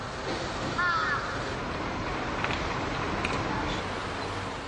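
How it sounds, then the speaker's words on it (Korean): A flock of crows drawn to food waste in a city street gives scattered caws over a steady, noisy outdoor background, with no talking. "냄새를 맡고 달려드는 까마귀 떼에 시민들은 공포를 느낄 정도다"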